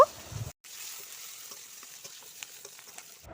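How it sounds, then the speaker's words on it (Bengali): After a short cut, a quiet, even sizzle of onions frying continues, with faint scraping as they are stirred in the pan. "পেঁয়াজটা এখানে নাড়াচাড়া করে একটু ভাজা ভাজা করে নেব"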